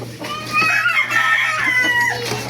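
A White Hatch rooster crows in a backyard, a loud, close, drawn-out call with a steady hum underneath.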